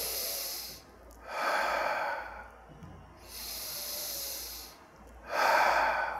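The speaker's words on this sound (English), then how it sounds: "Two breaths here." Slow, deliberate breathing during a chair yoga pose for children, front knee bent and arms raised: about two full inhale-exhale cycles, close and soft, with airy rising and falling breaths and no talking.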